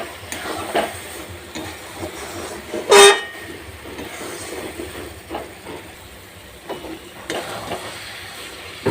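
Coconut laddu mixture being stirred in a pan near the end of cooking, giving soft scraping and faint sizzling with a sharp clank of the spoon on the pan partway through.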